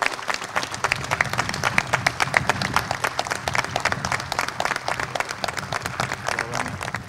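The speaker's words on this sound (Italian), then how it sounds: "E il più grosso applauso io lo dedico oggi al punto Avis." Applause fills the hall at a 70th-anniversary celebration of the AVIS blood donors' association in Fano, a dense steady clapping from a large audience that keeps going without a break.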